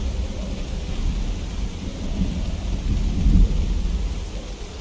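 Steady rain hisses while low rolling thunder rumbles beneath it, swelling briefly near the end, with no voices.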